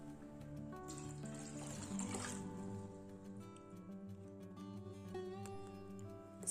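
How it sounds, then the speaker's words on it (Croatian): Water runs into a large pot, a steady low splashing pour that holds for several seconds, with faint clinks and no voices. "U veću posudu dodajte 3 litra vode."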